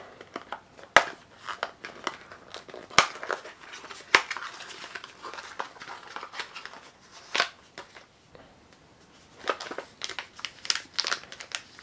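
A small box holding a GPS module with an LED is opened for a XAircraft flight controller, giving close, quiet crinkling and rustling of packaging in scattered bursts, with no talking.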